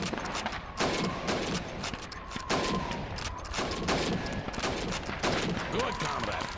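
Rifle fire in the World War II shooter game Call of Duty 2 at a training range, several sharp, loud shots spaced through the clip over a busy game background.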